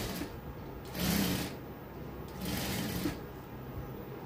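A sewing machine stitching the neck piece of a dress, heard as two short bursts of rapid mechanical whirring close by, with quieter background hiss between them.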